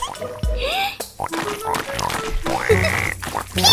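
A voice sings a repeated pig-like oink imitation in a children's song, with musical backing and several short nasal grunts spread across the passage.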